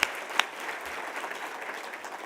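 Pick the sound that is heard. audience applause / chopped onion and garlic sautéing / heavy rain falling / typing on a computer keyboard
audience applause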